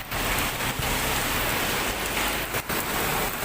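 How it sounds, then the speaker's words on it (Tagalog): Heavy rain falls steadily and loudly, pouring down on a street that is flooding, with a dense, continuous hiss and no breaks. "Lumakas ang ulan."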